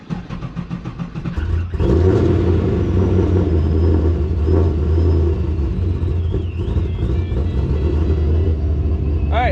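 A supercharged Pontiac GTO V8 running on E85 cranks and fires up, then settles into a loud, steady, close idle with a deep rumbling burble that continues throughout.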